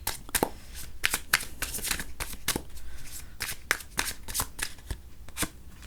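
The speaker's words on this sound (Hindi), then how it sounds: "जब तक मैं कार्ड्स को शफल करूं" Tarot cards are shuffled by hand in a quick series of crisp riffling slaps and flutters, close and fairly loud, repeating steadily without talk.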